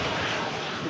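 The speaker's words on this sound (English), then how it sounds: "as this Ryanair vacates" A Ryanair airliner vacating the runway at Manchester Airport, heard as a steady, broadband jet roar at moderate distance that holds even throughout the brief moment.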